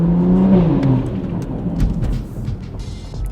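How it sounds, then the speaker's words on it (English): A car engine revs with a deep, loud roar, its pitch rising and then easing off into a rumbling idle over a few seconds, with no voices. "This car sounds great."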